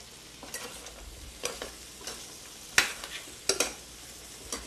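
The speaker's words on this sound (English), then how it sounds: "So what I'm doing now is I'm just waking up the parsley." Chopped flat-leaf Italian parsley stirred through carrots in a hot pan, a quiet sizzle under scattered scraping and clinking of the utensil, a few sharper metallic knocks near the end, no speech.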